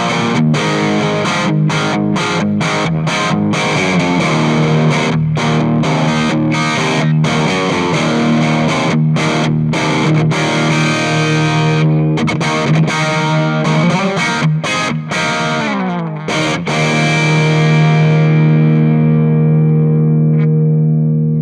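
An electric guitar played through a small Victory Copper 1x12 valve amp with distortion, with loud, driven chords and punchy palm-muted chugs in a steady rhythmic pattern that ends on a ringing sustained chord, all close and without speech.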